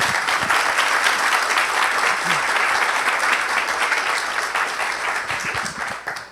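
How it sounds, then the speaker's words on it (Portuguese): An audience at a Laravel programming talk gives a sustained, dense round of applause, loud and even for several seconds before tapering off at the end, with a voice briefly audible beneath. "Merece ou não merece uma outra salva de palmas?"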